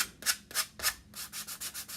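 Rhythmic hand sanding of wood with a sanding block, a steady series of raspy back-and-forth strokes, close and fairly loud, with no voices.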